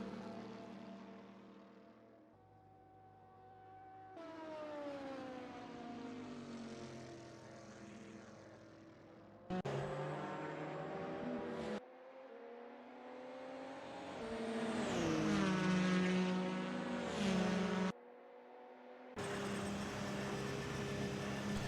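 LMP prototypes and GTE cars lapping at Daytona in the Assetto Corsa racing game, engines rising and falling in pitch through several abrupt cuts, changing between quiet and louder stretches with no voices.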